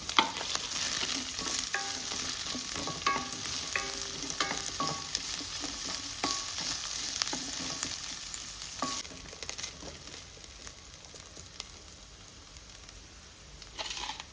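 Sliced onion hitting hot tempering oil for mushroom xacuti, a bright continuous sizzle with scraping stirs and clinks of a spoon against the pan, gradually calming toward the end, no voices.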